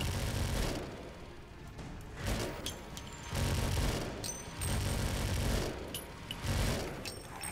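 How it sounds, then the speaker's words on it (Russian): Machine gun fire in the video game Left to Survive, repeated bursts of rapid shots alternating with short gaps, fairly quiet overall. "Вот он и пулемет, да?"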